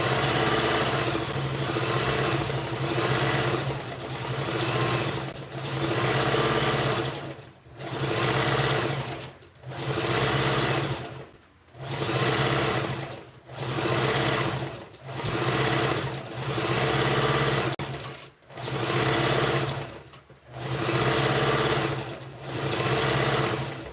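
A sewing machine runs a straight stitch on organza fabric, a loud steady motorized whir in repeated bursts of a second or two, each ending in a short pause, close up with no talking.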